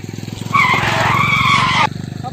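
A car accelerates hard with a rapid, pulsing engine drone, then its tires squeal in a loud, sustained skid for over a second before the engine pulses carry on, close and alone.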